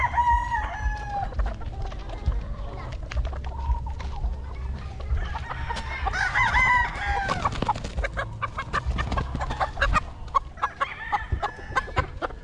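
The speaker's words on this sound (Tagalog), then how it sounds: "Ito yung mga stag natin na nanggaling dun." Gamecock stags at a rooster farm crow repeatedly and cluck, several birds close by with overlapping calls over a steady low background rumble, no talking.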